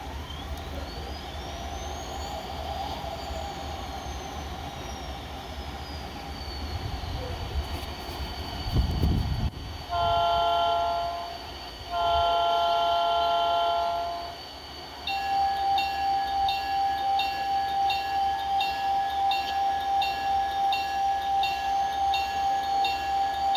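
An MTH model train on a Santa Fe layout track starts up with rising motor whine, then two sounded horn blasts and a steady rhythmic running hum with faint talk beneath.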